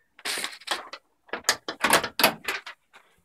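A wooden chicken coop door being handled and shut, a series of close knocks, scrapes and rattling bumps in irregular bursts over about three seconds, with no talk.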